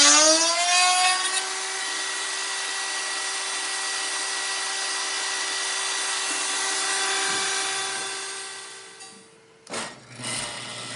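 Table saw spinning up and running with a steady high whine while cutting tenons in walnut, then winding down and stopping, followed by a few clunks near the end.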